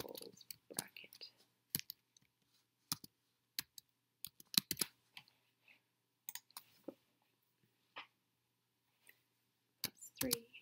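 Computer keyboard typing in a quiet room, a scattered run of sharp, close clicks and taps with irregular rhythm and pauses, while a voice talks softly in between.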